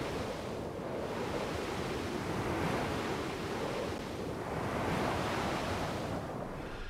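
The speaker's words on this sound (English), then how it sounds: "The flowing rivers as they lead into the crashing ocean." Rivers flowing into a crashing ocean in the fantasy strategy game Age of Wonders 3: loud, continuous surf with broad washes of waves swelling and receding, no voices.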